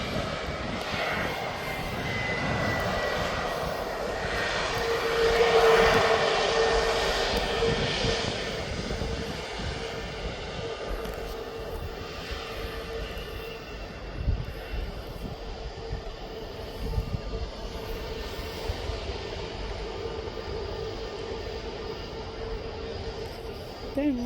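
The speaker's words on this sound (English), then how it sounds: "now this Jet2 is off back to" A Jet2 jet airliner departs Birmingham Airport with a loud, steady engine roar. It swells to a peak and then holds as a broad, sustained rumble heard from nearby.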